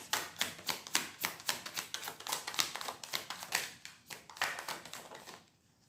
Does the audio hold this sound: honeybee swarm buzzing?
no